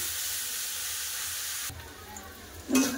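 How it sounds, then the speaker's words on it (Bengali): Potatoes and fenugreek greens fry in oil with a soft, steady sizzle that cuts off partway through, followed by a brief clatter of a utensil. No voices. "শাক আলু খুব ভালো করে ভাজা হয়ে গেছে দেখুন"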